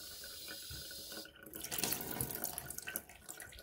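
A kitchen water tap runs in an old-fashioned kitchen, a soft steady trickle that grows into a fuller, splashing stream partway through.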